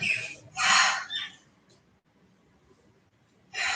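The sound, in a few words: Indian myna bird calling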